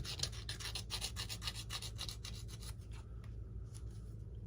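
Sandpaper of 80 grit rubs back and forth on a model Tiger Moth part, a faint rasping in quick regular strokes that slow and thin out toward the end.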